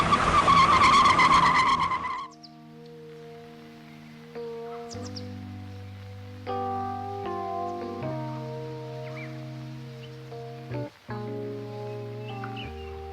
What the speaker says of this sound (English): I hurried to my car, threw everything in the back seat, and sped off.